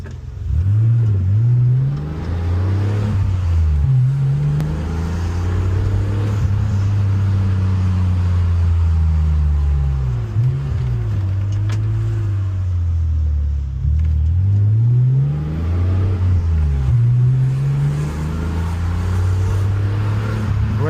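A 1988 BMW 635CSi's engine pulls loudly from inside the car, revs climbing and dropping through repeated gear changes with a deep, smooth drone throughout and no talking.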